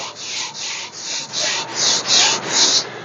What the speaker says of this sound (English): if you push too hard on your sanding utensil